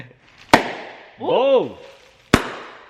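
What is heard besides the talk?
car exhaust pops and bangs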